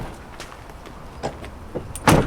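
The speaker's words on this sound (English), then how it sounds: "you can close these doors" Roll doors on a camper van's shower and entrance are pulled shut, giving a few soft rolling thumps and one louder closing knock near the end, close by and with no voices.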